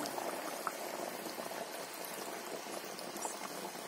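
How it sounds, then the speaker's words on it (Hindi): Himachali kachori frying in hot oil, a continuous soft bubbling sizzle, fairly faint and even, with no voices. "ये हमने कचौड़ियाँ बना दी और ये हमने तेल गर्म कर दिया। अब इसको हम पकाएंगे।"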